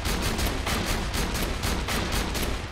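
Rapid automatic gunfire from a fast-firing weapon in the video game Borderlands, loud, dense bursts of shots repeating in a steady rhythm throughout with no talking.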